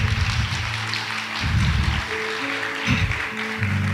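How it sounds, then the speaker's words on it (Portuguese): A church congregation applauding during a sermon, with bursts of clapping swelling and easing over a sustained musical backing, fairly loud and full. "Aplauda para valer."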